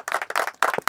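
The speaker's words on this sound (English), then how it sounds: "let's give a round of applause to Ali, yeah?" Scattered claps from a Sunday league football team, a few people clapping in short uneven bursts for a teammate, close and fairly loud, with no talk over it.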